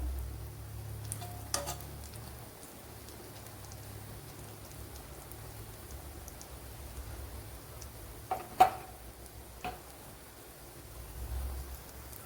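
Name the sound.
egg banana toast frying in a pan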